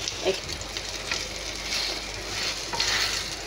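Bread omelette toasting in a hot pan, a steady soft sizzle and frying hiss with faint stirring scrapes running alone throughout.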